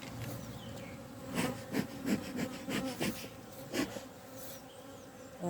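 Honey bees buzz steadily at a hive in an Irish apiary in spring, a dense close drone with several louder swells as insects pass near, no voices.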